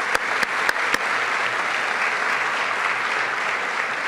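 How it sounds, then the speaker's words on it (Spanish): Steady applause from a legislative session audience in Quintana Roo, with a few sharp near claps at the start before the dense clapping carries on evenly. "Un fuerte aplauso para todos ustedes."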